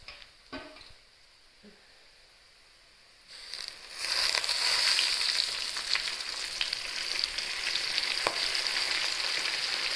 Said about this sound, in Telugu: ఇవి కడిగిన గుండకాయలు కార్యాలు అయితే వేసుకుంటున్నా